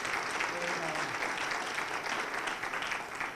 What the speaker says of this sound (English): give everybody that presented a great round of applause